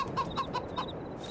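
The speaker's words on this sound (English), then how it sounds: "Now we get to hear our chickens clucking all day long" Video game chickens cluck in a quick series of short, nasal bursts, fairly close, then quiet down to a faint background murmur.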